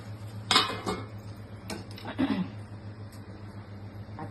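A metal lid set onto a pot of fodnicha bhat (tempered rice) over a lowered gas flame gives a couple of short clinks and a soft clatter, close and moderately loud against a steady burner hum.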